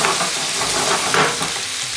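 Vegetables with ginger, green chili, spinach and green pepper sauteing in a pan for veg jalfrezi, a loud steady sizzle with scraping stirring sounds, close up and continuous.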